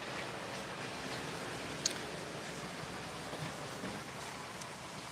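Rain falls as a steady, faint broadband hiss, continuous and even throughout with one brief sharp tick, and no voices.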